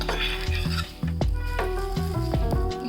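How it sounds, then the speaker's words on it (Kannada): Tempering for cucumber gojju hits hot oil with a sharp burst of sizzling and crackling, stirred with scraping utensil clicks, close and continuous for a few seconds. "ಈಗ ಇದಕ್ಕೆ ಒಗ್ಗರಣೆ ಸೇರಿಸ್ತಾ ಇದ್ದೇನೆ"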